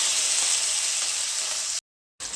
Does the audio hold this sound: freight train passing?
no